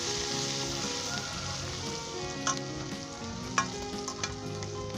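Turmeric, garam masala, salt and dried fenugreek stirred into hot oil in a karahi, a dense close frying crackle with a few sharp utensil taps against the pan and no speech.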